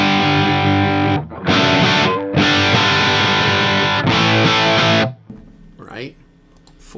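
An Axe FX guitar tone played through a cabinet miked with a Shure 57 rings out in sustained chords with short gaps, loud and close, followed by someone speaking briefly.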